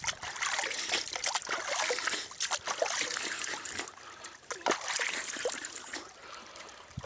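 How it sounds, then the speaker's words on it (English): Cold water splashed from a tiny moorland stream onto a hiker's head in the Peak District, a close, steady wet spatter and trickle with dribbling bursts running throughout, no talking. "it's time I get my head a bit wet like I usually do"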